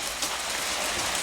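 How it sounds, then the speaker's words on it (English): Rain falls steadily on a surface outdoors, a dense, even hiss of drops with no gaps, moderately loud throughout the short stretch. "Raining."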